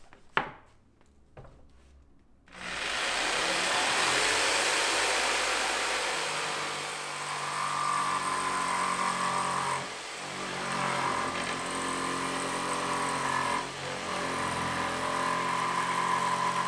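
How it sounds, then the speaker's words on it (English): A jigsaw cuts wood for a stove enclosure on an Alberg 30 sailboat, starting with a few taps and then running as a loud, continuous buzzing saw with slight dips as it moves through the cut. "we're gonna come back with our jigsaw and cut this part off"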